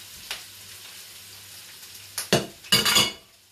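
Chopped onion and carrot dropped into a hot pan of oil, a low background hiss that flares into two loud bursts of sizzling as the vegetables hit, with faint stirring scrapes and no voices.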